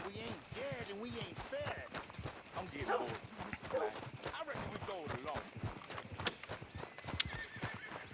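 A horse in Red Dead Redemption 2 clip-clops along with hoof steps and lets out whinnying calls, heard under a steady voice talking over the game throughout.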